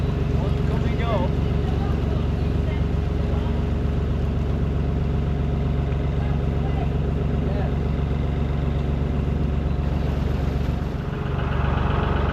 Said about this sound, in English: There's 2 boats already coming through the swing bridge when I got here.